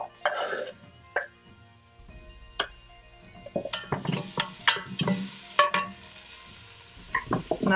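Diced bacon slices sizzle in a pot while being stirred, with intermittent scraping and clinks of utensil against metal, fairly close and moderately quiet, no talking.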